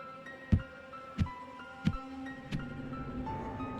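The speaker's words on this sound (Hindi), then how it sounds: "छत से लटक गली के बीच पहुंचकर अदील का दिल ज़ोर से धड़कने लगा।" Heartbeat sound effect in a horror story set on a haunted Karachi street: four heavy, evenly spaced thumps about two-thirds of a second apart over a soft eerie hum.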